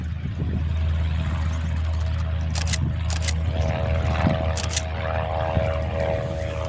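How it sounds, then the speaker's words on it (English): A Piper light propeller plane doing touch-and-goes at Jandakot Airport drones steadily at a distance, its low engine hum persisting with a few brief clicks and knocks nearby. "The Piper, in fact, is doing touch and goes."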